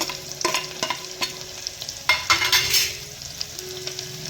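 Chopped onion and green chilies frying in a pan, a soft sizzle broken by a few scraping stirs of a spoon against the metal, close and fairly quiet with no voices.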